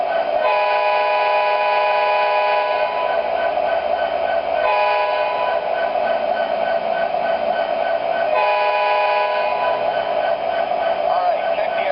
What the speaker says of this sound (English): So let's hear the horn.